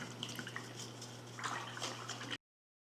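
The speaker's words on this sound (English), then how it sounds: "While you're waiting, you can rinse off your brush in the water." A paintbrush is swished and rinsed in a cup of water while painting a jack-o'-lantern picture, giving soft close drips and light splashing under a steady low hum, with no talking.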